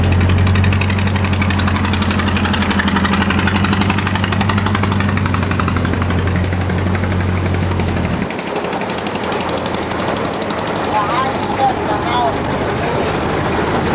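Small homemade vehicle powered by a lawnmower engine, running loud and close with a steady rattling drone that shifts pitch partway through, as if throttling or moving off.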